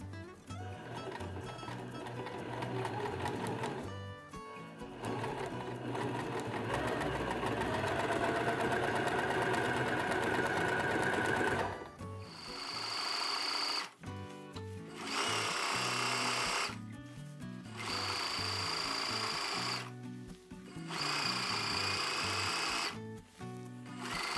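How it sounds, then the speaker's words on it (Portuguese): A sewing machine runs stitching a tubular skirt seam on the wrong side near the fold, in long steady bursts that stop and restart several times, loud and close with no talk. "Vou costurar pelo avesso mesmo, para ficar bem certinho, quase na dobra."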